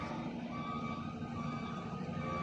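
A truck reversing into a parking spot, its backup alarm beeping steadily over the low drone of the engine, heard from nearby outdoors.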